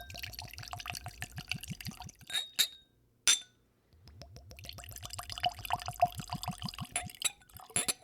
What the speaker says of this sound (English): Pour it into our glasses.